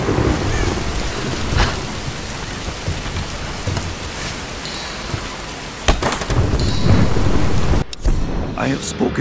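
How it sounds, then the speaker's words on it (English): A Tomb Raider thunderstorm pours heavy, steady rain, with rolling thunder and sharp cracks around the middle and a loud burst near the end, no voices over it. "Nah, let's wait out the storm."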